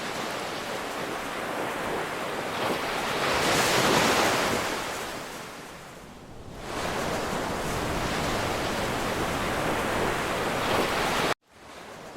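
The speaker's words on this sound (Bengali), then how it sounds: "সমুদ্রের এরকম উত্তাল ঢেউ আর এত সুন্দর একটা অন্যরকম পরিবেশ" Rough monsoon sea waves at Digha beach roar continuously and loudly, one surge swelling and easing before the next rolls in, with wind buffeting the microphone and an abrupt cut near the end.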